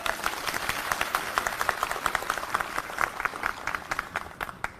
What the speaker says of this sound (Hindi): एक बार मंच से कहूंगा कि जोरदार तालियां हमारी ऑडियंस के लिए